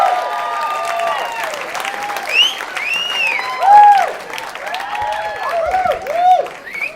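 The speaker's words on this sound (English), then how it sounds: "Make some noise for Chris Garvey, everybody." Audience applause and cheering at a comedy club fill the room, steady dense clapping with whoops rising and falling, a few louder swells, and some voices talking through it as a comedian is brought on stage.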